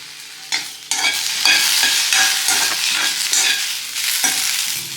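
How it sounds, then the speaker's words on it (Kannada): Food frying in oil in a pan crackles and sizzles loudly up close, with bursts of stirring scrapes and shifting spatter throughout. "ಇವಾಗ ಇದೊಂದು 15 ನಿಮಿಷಗಳ ಕಾಲ ಎಣ್ಣೆಯಲ್ಲಿ ಈ ಥರ ಫ್ರೈ ಮಾಡ್ಕೊಂಡಿದ್ದೀನಿ"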